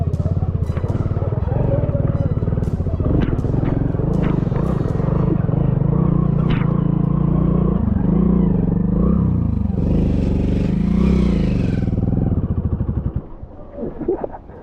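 Hero Splendor motorcycle climbing an off-road uphill track, its engine labouring loud and close with clattering and scraping over rough ground, the revs rising and falling before fading near the end.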